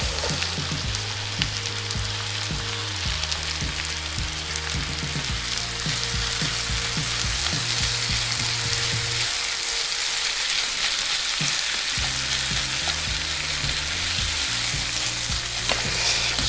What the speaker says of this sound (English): I prefer just to break it up in my hands and crumble it into the pan